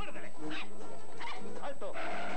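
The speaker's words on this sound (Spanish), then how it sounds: "Ladra como un perro." Dog barking and yipping in a 1997 Spanish TV advert on Telecinco, several short barks mixed with voices and advert sound over a continuous background.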